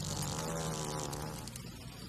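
Giant hornets raiding a bee colony produce a loud, dense, continuous buzz of many wings close by, with no voices.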